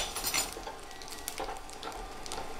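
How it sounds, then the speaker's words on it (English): Cumin seeds sizzling and crackling in a hot pan, a steady bright hiss with faint scraping of a utensil, close by. "Can you guys hear that sizzling?"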